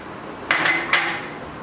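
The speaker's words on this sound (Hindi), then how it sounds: "अब इसमें हम लहसुन को डाल देंगे" Garlic cloves tipped into a metal pot of pickle mixture, giving two or three bright clinking knocks against the pot, close and clear over a quiet background.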